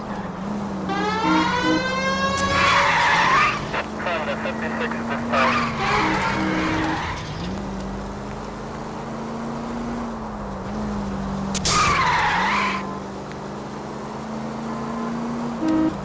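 In a car chase in L.A. Noire, tires skid and squeal through hard turns over a constant engine roar, with a siren wailing and rising in pitch and repeated screeches; voices talk over parts of it.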